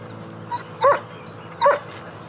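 A German Shepherd from the TV series The Littlest Hobo gives two sharp, clear barks nearly a second apart, close and loud against a quiet background.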